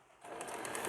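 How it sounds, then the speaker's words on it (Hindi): A sewing machine stitching an extra-large night pajama, starting after a brief pause and then running in a fast, even, continuous whir of stitches, close and clear. "सिलाई लगा देंगे।"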